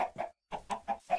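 A Minecraft chicken clucks in several short, close bursts with a brief gap, alone and clear.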